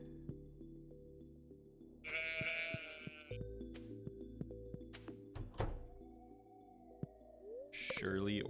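Sheep bleating on a farm, two loud close bleats a few seconds apart over a steady low hum, with occasional thunks and a voice talking.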